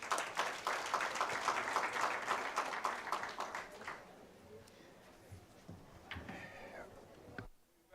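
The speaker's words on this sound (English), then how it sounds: "a big applause for our panel" An audience at a climate summit applauds a panel, with dense clapping for about four seconds that then fades into quieter room noise and a few scattered sounds.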